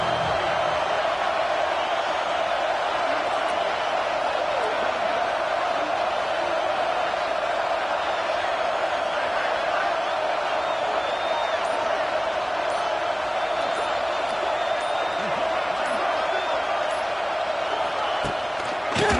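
A stadium crowd at a football game roars continuously on a big third down, a dense, sustained wall of cheering and noise with a broadcast commentator talking over it.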